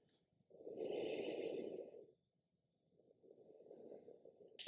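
Slow, deep belly breathing during a hatha yoga practice, heard close and quiet: one long airy breath, a pause of silence, then a second gentle breath.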